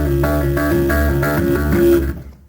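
An unamplified bass guitar finger lift exercise, notes hammered and lifted in a quick repeating pattern with one anchored note, played alone and fairly clear for a short run before fading.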